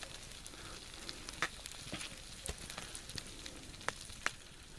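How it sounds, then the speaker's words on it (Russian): Food sizzling in a pan over an outdoor campfire: a quiet, continuous frying hiss with scattered sharp pops and crackles. "Жарко над костром."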